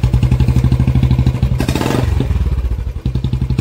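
A motorcycle fitted with a new silencer idles with a rapid, throbbing loud thump. A brief rev surges in the middle before it settles back into the close, chugging beat.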